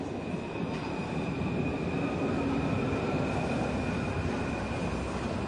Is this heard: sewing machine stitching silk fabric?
no